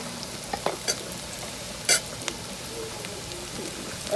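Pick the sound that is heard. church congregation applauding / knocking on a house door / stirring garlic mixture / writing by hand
stirring garlic mixture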